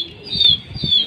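Soft fluttering wingbeats of flying pigeons pulse in a quick rhythm beneath a steady high whine, as the birds flap nearby.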